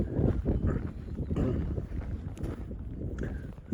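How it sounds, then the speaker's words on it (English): Strong wind buffets the microphone on an exposed mountain ridge along the Continental Divide Trail in July, a steady loud low roar with gusty surges and no speech. "A little windy,"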